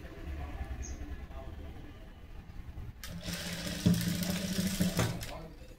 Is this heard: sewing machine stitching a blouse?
yes